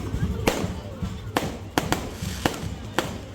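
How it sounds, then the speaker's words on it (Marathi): Fireworks burst at a wedding celebration, with sharp cracks and bangs repeating irregularly every half second or so, loud and fairly close over a busy background. "तुम्ही बघू शकता फटाक्यांचा आतिषबाज कसा होतोय."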